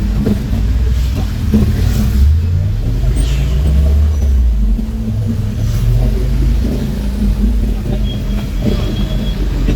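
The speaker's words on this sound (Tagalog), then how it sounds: "Video ng mga traffic." Road traffic rumbles steadily nearby, with a vehicle engine swelling and accelerating past partway through under a constant low drone.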